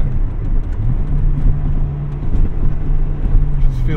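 A 1998 Acura Integra Type R drives along, its engine humming steadily from inside the cabin with a slight rise in revs, road rumble underneath and a voice talking over it.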